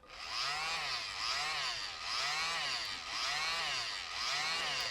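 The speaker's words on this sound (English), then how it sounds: "that's the thing with a mini blower" A mini blower pushes paint across a surface for fluid art, its small motor whirring in repeated swelling bursts, rising and falling about once per second, fairly quiet.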